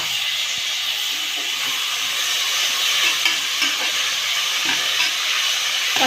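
Tomatoes sautéing with softened onions in a pan for kuska, a loud, steady hissing sizzle close up, with faint stirring scrapes and small crackles throughout, no talking.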